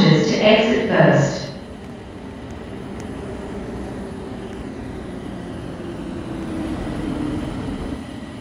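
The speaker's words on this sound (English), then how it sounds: "The train bound for Essen Interchange Station parking facility is arriving." A Roblox train pulling into a station on the Westwood Airport Transit line: a brief spoken announcement gives way to a steady, low mechanical rumble that swells slightly as the train comes in.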